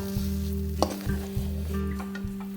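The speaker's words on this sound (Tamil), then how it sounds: "சேர்த்துட்டு இதை வந்து நல்லா மிக்ஸ் பண்ணி விட்டுடுவோம்" Milk kesari with cardamom powder is mixed in a pan with a few distinct scraping strokes over a soft sizzle. A steady appliance hum runs beneath, and there is no talking.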